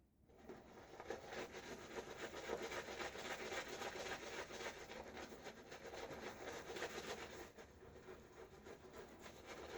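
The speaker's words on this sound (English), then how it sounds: "Just raking some of the excess lather off my brush." A shaving brush has excess lather raked off it, giving a steady, close scraping and rubbing texture that runs continuously and fairly quietly, with no talking.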